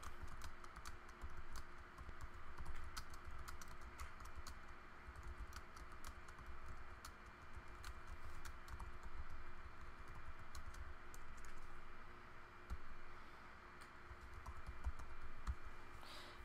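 Continuous quiet typing on a computer keyboard while creating a new document: rapid, uneven key clicks pattering steadily throughout at low level.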